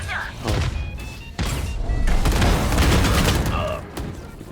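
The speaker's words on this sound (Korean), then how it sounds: "모든 미사일 발사." Volley of missiles launched in a Korean tactical shooter match, a dense run of booming thuds and crackling blasts building into a sustained loud barrage, with a voice speaking briefly over it.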